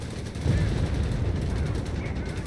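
Gunfire in Company of Heroes 3 as troops push back Panzer Grenadiers, heard as a dense, continuous low rumble of shots and battle noise under a commentator's voice.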